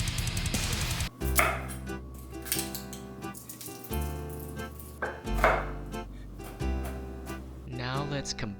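Knife slicing a lemon in half on a cutting board in a home kitchen, a few short firm cuts and board knocks heard close, set against background music.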